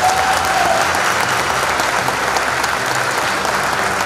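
A theatre audience applauds at a play performance in Uşak, with dense, loud, continuous clapping and crowd noise lasting throughout.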